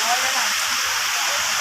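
Cold, clear river water flowing steadily at Alimatok, a broad continuous rushing wash like a small waterfall or stream, close and even throughout.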